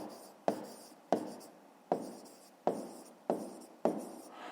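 A pen taps and scratches on notebook paper in six short strokes, each a sharp onset fading quickly, close and quiet.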